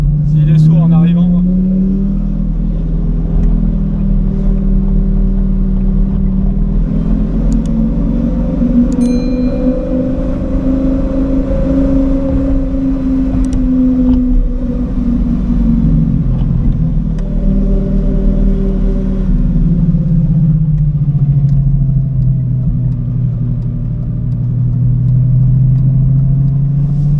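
A Lamborghini Gallardo engine heard while driving, a loud, continuous mid-pitched rumble whose pitch rises and falls with gear changes over nearly half a minute, with people talking over it.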